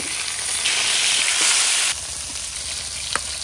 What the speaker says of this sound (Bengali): মাছের এক পিঠ ভাজা হয়ে গেছে আর উল্টে আরেক পিঠ ভাজনি